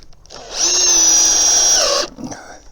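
A power drill drives a 3.5-inch deck screw into a rafter on a 1905 cottage, with one loud sustained whine that rises and drops in pitch before cutting off.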